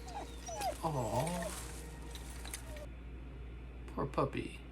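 A puppy in the film Prey whimpers in two short bursts of high, wavering cries, the first near the start and the second near the end, over a low, steady movie soundtrack.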